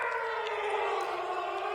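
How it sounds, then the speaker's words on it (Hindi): A steady air raid siren sounds for a civil defense mock drill in Delhi, a sustained wailing tone that drifts slowly downward in pitch, loud and continuous with no talking over it. "ये जो आवाज आप सुन रहे हैं ये है एयर सायरन की आवाज।"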